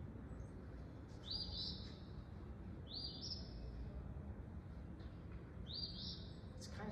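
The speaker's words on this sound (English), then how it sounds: "So here's the eastern phoebe." An eastern phoebe calls three times, each a short raspy two-part note spaced about two seconds apart, faint and distant over a low rumbling background.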